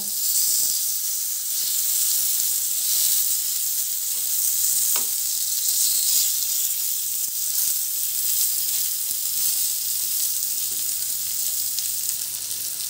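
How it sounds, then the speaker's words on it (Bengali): Sliced pointed gourd sizzles steadily in hot oil in a pan, a continuous bright frying hiss with a soft scrape as the pieces are turned over, no voices. "আমি পটলগুলো এখন উল্টিয়ে দিব।"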